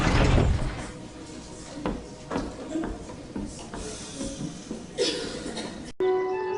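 In the Harry Potter and the Prisoner of Azkaban video game, a heavy door slides open with a rumbling scrape, followed by thuds and shuffling, then a brief resonant tone near the end.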